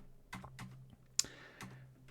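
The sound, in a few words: typing on a computer keyboard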